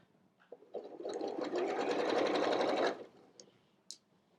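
A sewing machine stitches a T-shirt sleeve flat in one loud, close, continuous burst of about two seconds, with a few light clicks and handling sounds before and after.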